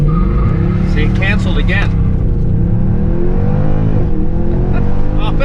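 A Mercedes C63 with a custom tune over 500 hp drones loudly and steadily at launch, its engine note wavering slightly, while someone talks over it.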